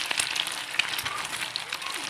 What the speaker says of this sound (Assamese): গোটা জিৰাৰ লগত ডিমটো ভাজি দিলোঁ।